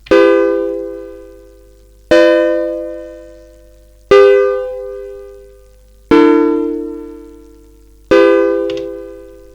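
Chord stabs played in a simple progression on an Elektron Analog Rytm drum machine. Five loud, evenly spaced synth chords hit about every two seconds, each with a sharp attack and a long fading decay, alone without voice.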